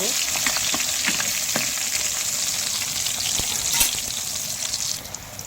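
Battered eggplant slices (beguni) frying in hot oil give a loud, steady sizzle and crackle, with occasional sharper pops and stirring clicks close by, fading slightly at the end.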